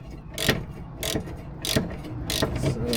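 A wrench unscrewing a front strut bolt on an Acura MDX clicks in five evenly spaced ratcheting bursts, close and crisp over a low background hum.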